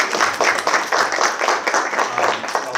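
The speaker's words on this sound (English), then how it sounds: "Let's give him a big round of applause." Audience applause at a college visiting writers event, a steady patter of many hands clapping at moderate loudness that carries on evenly throughout without any speech over it.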